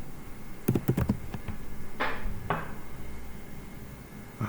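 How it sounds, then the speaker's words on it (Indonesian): Someone types on a computer keyboard, a brief quick cluster of close key taps followed by a couple of softer swishing sounds over steady background noise. "Lalu di sini kita ketikkan Modbus ya"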